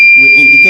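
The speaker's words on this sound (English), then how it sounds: "you see that the alarm will indicate there is utility supply, and it will off." Loud electronic buzzer of a single-phase automatic changeover switch signalling that utility power has returned, a steady piercing tone over a low rasping buzz.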